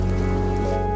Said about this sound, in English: I'm gonna add some rain sounds as well